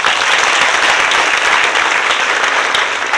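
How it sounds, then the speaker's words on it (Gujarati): An audience at a student award ceremony applauds, a loud, dense and steady wash of clapping that fills the hall. "ચાલો આના માટે એક મસ્ત તાળી પાડી દો."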